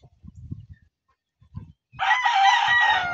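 A graded asil rooster lets out one loud, drawn-out crow that runs to the end, after a few faint low murmurs and clucks.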